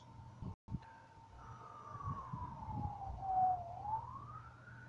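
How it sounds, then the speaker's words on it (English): An ambulance siren wails in a single long sweep, sliding down and then climbing again, fairly loud and steady over a low rumble of traffic with no one talking. "Ambulance."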